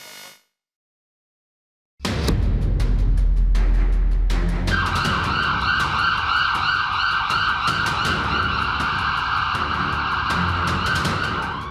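Ambulance siren outside Ropar jail during a prisoner transfer news report, loud and close with a steady wailing tone after a brief silence, layered over engine and road noise, no talk.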